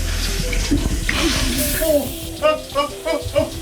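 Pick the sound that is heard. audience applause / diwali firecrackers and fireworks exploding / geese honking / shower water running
shower water running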